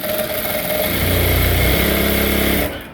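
A motorized sewing machine stitches a trouser seam from the ankle upward, a loud, close, rapid mechanical whir with a fast stitching rhythm that runs steadily, then cuts off near the end.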